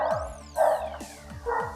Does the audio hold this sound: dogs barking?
yes